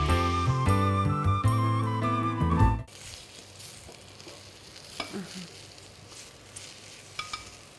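Vegetables frying in a small amount of oil in an Armenian kitchen, a steady soft sizzle under occasional utensil clicks, following a burst of loud music at the start.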